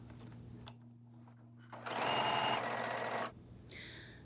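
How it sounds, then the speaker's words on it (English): A sewing machine runs a half-inch seam along the edge of a quilt being made into a jacket, a rapid, even stitching whir lasting about a second and a half, close and clear, between quieter handling sounds. "And then I sew a 1/2 inch seam allowance on that side."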